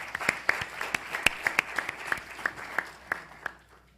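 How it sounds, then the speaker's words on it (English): An audience at a panel event gives a modest round of clapping for a panelist, a sparse, close series of individual claps over about four seconds that thins out toward the end. "so let's give him a round of applause."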